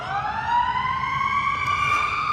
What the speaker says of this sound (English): Sirens follow me.